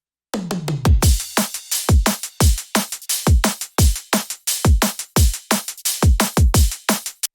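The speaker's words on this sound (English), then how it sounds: "So yeah, altogether, the drums sound like this." A fast, punchy drum and bass loop with crisp snares and booming kicks in a driving breakbeat rhythm, loud and steady with no voices.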